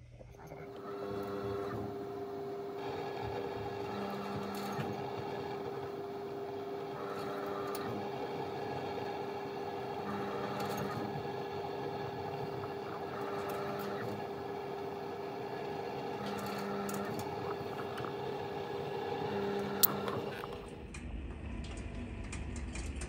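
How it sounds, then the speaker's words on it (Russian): A Kalor Greta 8 pellet stove starts up after a service-error fix and cleaning, its fan settling into a steady, close hum with faint repeating mechanical ticks and clicks, running alone for about twenty seconds before cutting off. "Вот загудел наш вентилятор. Пошел теплый воздух."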